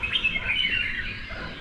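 Many birds chirp and tweet at early morning around a resort in Munnar, a faint, busy mix of small calls heard from a distance.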